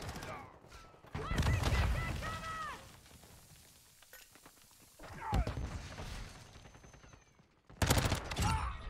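Bursts of gunfire from a Modern Warfare 2 online match: a heavy burst near the start, another around mid-clip, and a sharp volley at the end, with quieter game ambience between them and a voice talking during the lulls.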